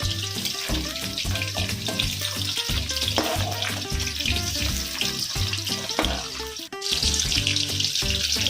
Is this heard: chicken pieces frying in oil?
yes